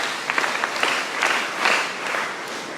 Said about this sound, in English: Let us give them 5 claps.